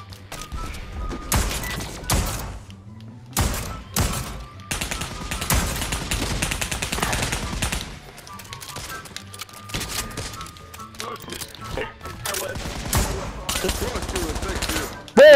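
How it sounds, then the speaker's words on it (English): AK-47 rifles fire in bursts during a Wild West prison-escape match in the VR shooter Pavlov VR, loud rapid volleys coming in repeated clusters with brief pauses between them. "It's good we got AK-47s in the Wild West."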